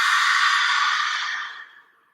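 A long breath pushed out through the mouth during a slow yoga flow, breathy and close, steady at first and then fading away to silence.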